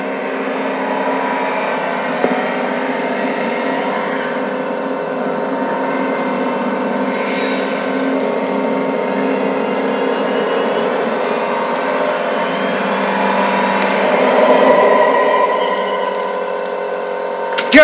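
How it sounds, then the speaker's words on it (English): Compressor in the horror game Metel Horror Escape, heard as a steady, loud mechanical hum with a faint ratcheting, watery pump-like churn, running continuously with a slight swell near the end and no voices. "Goddamn compressor!"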